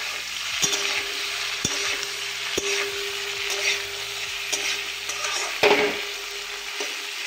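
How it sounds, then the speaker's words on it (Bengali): Prawns fry in a pan with a loud, steady sizzle, broken by sharp clinks and scrapes of a utensil stirring against the metal, close up and without talk. "চিংড়ি মাছ বেশি কড়া করে ভাজতে লাগে না"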